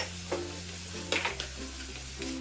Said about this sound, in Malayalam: അത് നെടുകെ കീറിയത് ഇട്ട് ഇളക്കി കൊടുക്കാം.